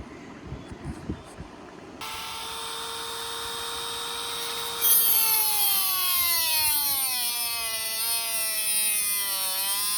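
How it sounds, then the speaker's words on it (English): A Dremel-type rotary tool spins up and cuts into a rusted bolt on a V8 engine, a loud sustained high whine whose pitch wavers and drops under load after a brief stretch of handling noise. "I'll be using a Dremel or a cheap alternative and cutting it off."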